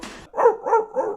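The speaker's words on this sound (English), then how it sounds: "And then the dog has his little solo." A dog barks in the Goosebumps theme tune, three clear, close, loud barks in quick succession after a brief musical lead-in.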